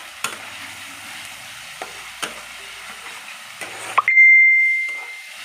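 Spice paste with chillies frying in oil gives a steady close sizzle broken by a few sharp spoon clinks on the pan, then a tonal electronic beep rings out near the end as the frying drops away.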